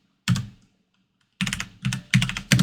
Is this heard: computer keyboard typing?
yes